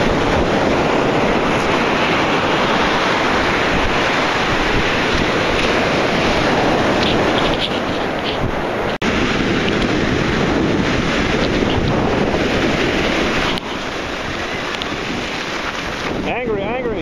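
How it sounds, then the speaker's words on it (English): Rough ocean surf and strong wind roar steadily at a beach, with heavy wind buffeting on the microphone and constant crashing wash throughout, no pauses. "Angry, angry. The ocean is angry today."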